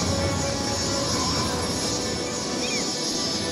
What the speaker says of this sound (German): Und das erste Flugzeug kommt hier an